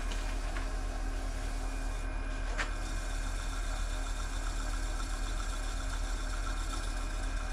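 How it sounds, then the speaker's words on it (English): A wood lathe runs steadily to heat and melt a wax finish into a curly maple candy dish, a constant motor hum with faint whine, even and unbroken throughout. "Then we'll kick the lathe on, get some heat buildup to let that wax really melt into the wood"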